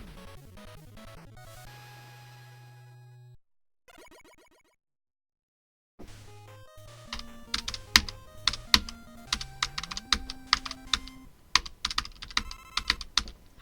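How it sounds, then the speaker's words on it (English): Rapid, dense key clicks from directional keys being mashed on a computer keyboard during a Rockman 2 run, mixed with bright chiptune game music, with a brief quiet gap before the busy tapping resumes. "Did I just like mashing the directional keys at some point?"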